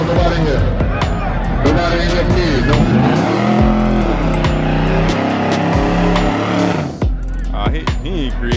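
Mustangs at a Reynolds, Georgia grudge drag race roar past loudly with rising engine revs and tire squeal, over a crowd cheering and talking in the background.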